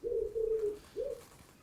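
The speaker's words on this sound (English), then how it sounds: "pigeon." A pigeon coos softly twice, a long rolling coo followed after a short pause by a briefer second one, fairly close in a quiet setting with no voices.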